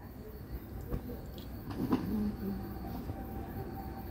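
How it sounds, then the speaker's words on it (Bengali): Children's ride train running at an aviation museum in Dhaka, a low rolling rumble with faint rattling and squeaks of the cars, and soft background voices. "ঝকঝক করে ট্রেন আমাদের 2 মিনিট চড়াইলো"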